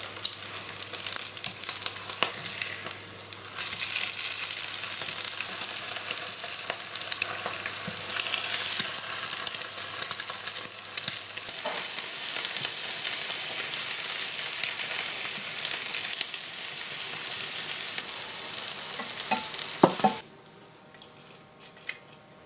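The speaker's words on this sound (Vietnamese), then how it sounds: "Mình chiên cho nó nâu vàng hai mặt." Eggs frying in hot oil in a pan, browning on both sides over medium heat, a steady close crackling sizzle that runs on without a break before dropping away abruptly at the end.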